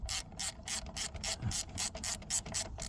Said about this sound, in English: Coming up on torque here. Click, click, click, click.